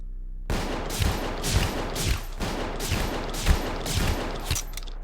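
Enforcer shotgun blasts in Space Station 14, about seven heavy booming shots in an uneven rhythm, loud and close, each with a broad noisy crack over a low rumbling background.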